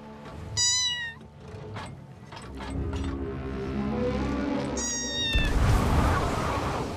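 A pet cat in the video game Sea of Thieves gives two clear, rising meows a few seconds apart, heard over a busy background of ship and game noise.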